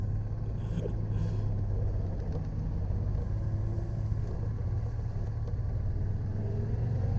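Inside a hired Citroën 2CV driving in France, a steady low mechanical drone and rumble hold at an even level throughout, with a faint thin drivetrain whine riding over it and no one talking.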